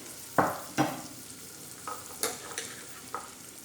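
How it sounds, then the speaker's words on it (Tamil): Onions and garlic dropped into hot oil for chickpea kuzhambu: two sharp sizzling bursts as they hit the pan, followed by quieter intermittent crackles and stirring scrapes over a soft frying hiss. "இப்போ வெங்காயம் போடுறேன். வெங்காயமும் பூண்டையும் நீங்கள் ஒன்றா போட்டுருங்க."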